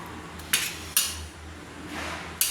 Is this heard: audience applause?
no